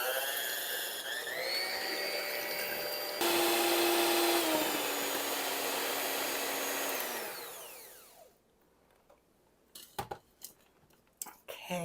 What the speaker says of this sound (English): Now your egg yolks, you'll want to mix them up in a separate bowl.